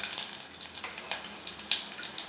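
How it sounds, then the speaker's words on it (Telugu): Tomatoes sizzle in a tempering for Rayalaseema ulava charu, horse gram soup, making a soft hissing fry with small irregular crackles and spatters, close and moderately quiet, with no one talking. "టమాటా కూడా కొంచెం బాగా మగ్గిద్దాం."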